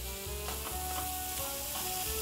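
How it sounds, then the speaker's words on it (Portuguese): Bacon frying in a pan, a steady loud sizzle and crackle running continuously throughout with no voices. "Enquanto o bacon frita"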